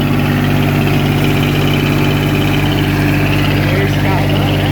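A diesel generator engine powering a linear irrigation pivot runs steadily with a loud, droning hum and vibration, close by, and a voice may be faint beneath it.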